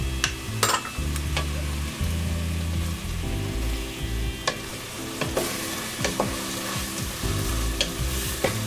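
Herbs and spices toast in a hot pan, a steady close sizzle broken by repeated scraping stirs and light clicks of a utensil against the pan, with no talking.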